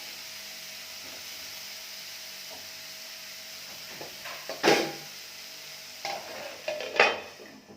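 An egg stir-fry with onions cooking in a pan on a low simmer, heard as a soft steady sizzle with a few louder scraping stirs and utensil taps near the end, with no talk.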